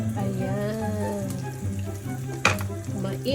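Steady sizzling of sea bream frying in a hot pan with a hum of background music, a brief sharp clatter midway.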